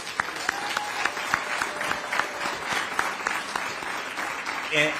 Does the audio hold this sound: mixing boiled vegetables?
no